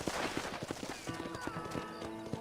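Horse hooves clip-clop in quick, rhythmic beats in Red Dead Redemption, a close gallop of repeated thuds with a faint whinny-like tone partway through.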